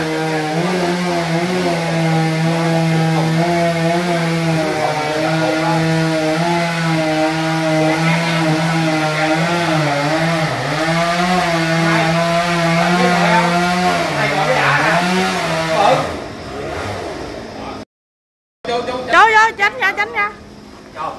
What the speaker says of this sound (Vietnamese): Đổi máy cưa lớn hơn rồi